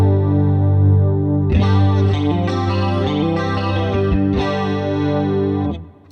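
A clean electric guitar plays through a Valeton GP200 with chorus and added bass and brightness. Sustained chords shimmer and chime with a few strummed changes, then stop abruptly near the end.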